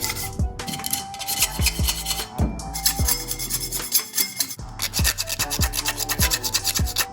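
Repeated strokes of 320 grit sandpaper on a block across a Chevy 350 crankshaft pulley surface, a raspy rhythmic rubbing with sharp scraping pulses at close range.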